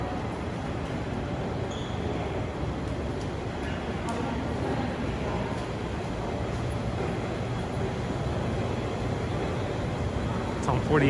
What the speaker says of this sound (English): That's car traffic.